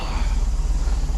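A 1982 Galaxy boat's MerCruiser engine idles steadily up close, a loud, even low rumble with a regular pulsing throb and no talk over it.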